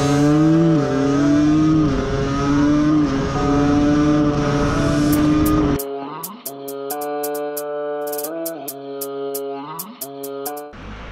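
An Aprilia motorbike with a carburettor engine, ridden on a road at Klammhöhe, drones loudly at high revs, then the tone drops and wavers through gear and throttle changes, close and continuous, with sharp ticking clicks near the end.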